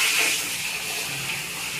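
Water sprays and hisses steadily against a truck being washed, a continuous close rush with no voices.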